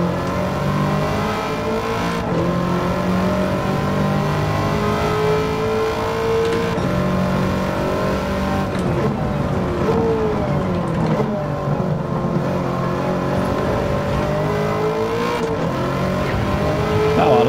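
2009 Corvette C6 ZR1 at Watkins Glen in Gran Turismo 7, its engine loud and continuous as it climbs through the revs, with brief gear-shift dips and a steady race-car roar throughout, no talking.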